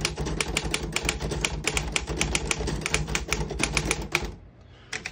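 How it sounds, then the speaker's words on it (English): Keys struck on a 1940 Royal KMM vintage desktop typewriter, typing a line in red ribbon: a rapid, loud run of sharp close clacks in uneven rhythm that stops abruptly near the end, with no talking. "I'll type a sentence in red on the next line"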